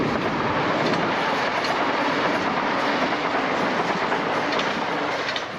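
A train rolls past up close near the White Cliffs of Dover, England, a loud, steady roar of wheels on rails with faint rhythmic clatter throughout.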